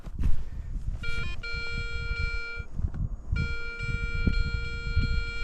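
Steady electronic tones with bright harmonics from a Garrett Ace 250 metal detector beep in sustained bursts, signaling iron, pausing briefly, over rustling and scraping close by.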